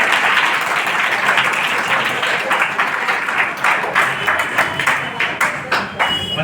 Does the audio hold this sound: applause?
yes